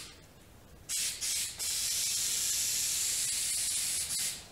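Aerosol spray adhesive laid onto carpet while covering a subwoofer box at home, a sharp close hiss that starts abruptly, stutters in two short bursts, then runs long and steady before stopping.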